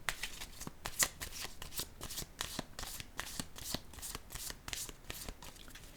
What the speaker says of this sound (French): je vais piger une carte rose pour ici